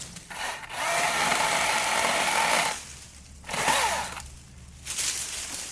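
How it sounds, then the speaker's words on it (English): A large chainsaw's engine revs loud and close in three bursts, dropping back to a lower idle between each surge. "We got two chainsaws. I got my larger one here and we got a smaller one too."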